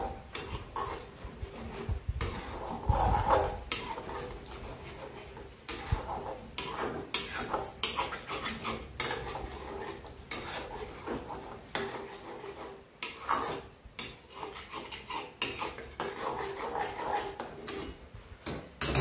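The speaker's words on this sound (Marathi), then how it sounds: "चांगलं फिरून घ्यायचं." Egg bhurji stirred in a pan over a medium flame, a steady run of scraping, rubbing and light metallic clatter of spatula against pan, close and continuous with no voice over it.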